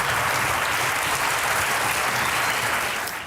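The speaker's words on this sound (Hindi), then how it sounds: "तालियां बजती रहनी चाहिए।" Studio audience on a Pakistani TV talk show breaks into dense, loud applause, a continuous wash of many hands clapping close by that tapers slightly at the end.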